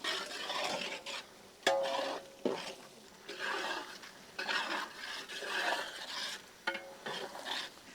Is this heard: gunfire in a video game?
no